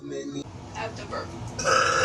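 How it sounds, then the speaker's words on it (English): A girl lets out a loud, drawn-out burp, then a second strong belch near the end, with her talking and background noise between them. "That was a good burp."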